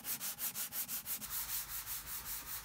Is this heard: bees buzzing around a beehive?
no